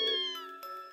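A kitten meows in the Trails of Cold Steel video game, one clear, close, tonal mew drawn out over a second, with a soft second lift partway through and no talk over it.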